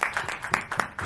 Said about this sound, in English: can we have a round of applause for these people?